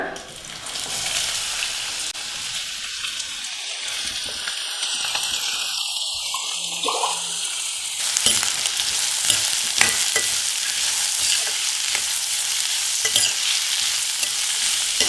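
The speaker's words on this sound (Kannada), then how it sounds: "ಈಗ ಇದೇ ಎಣ್ಣೆಗೆ ಕಟ್ ಮಾಡಿರುವಂತಹ ಈರುಳ್ಳಿಯನ್ನ ಹಾಕೊಳ್ಳೋಣ" Chopped onions hit hot oil in a pan for a garlic egg fry, giving a bright, steady sizzle with scraping stirs. The sizzle grows denser and louder partway through and carries on without speech.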